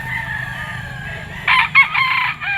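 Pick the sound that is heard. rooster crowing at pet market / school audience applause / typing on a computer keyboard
rooster crowing at pet market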